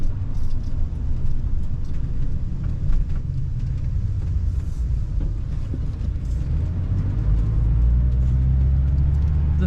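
Car driving slowly around a building, heard from inside as a steady close low rumble of engine and road noise with light wind buffeting, continuous for about ten seconds with no talking.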